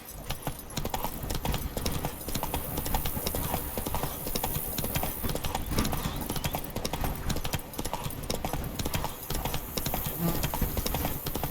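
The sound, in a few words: horse galloping, clip-clop hooves in The Witcher 3 video game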